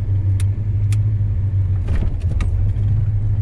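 A 1978 Chevrolet El Camino rolls down a dirt back road, its engine a steady low rumble throughout, with a few faint clicks and rattles from the body and road over the top.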